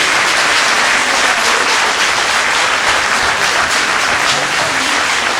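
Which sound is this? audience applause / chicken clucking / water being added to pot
audience applause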